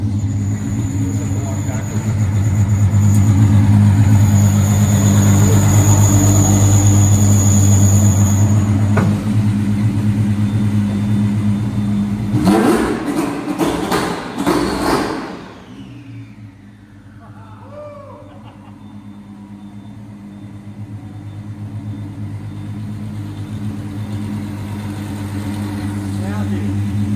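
A Lamborghini Revuelto engine warms up with a steady low rumble, a brief sharp rev burst partway through, then a quieter settled idle, heard from nearby in a garage-like space.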